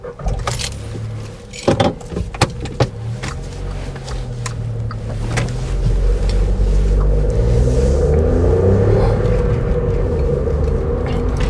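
A car's engine and road noise build from scattered clunks and rattles into a steady, loud rumble while it drives, with no voices.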